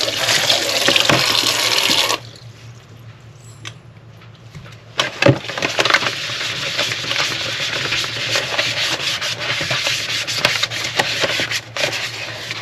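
Items rinsed and washed with water while a campsite is packed up, with a loud stretch of running, splashing water and scrubbing up close, a brief quieter pause, then more steady water and rubbing until the end.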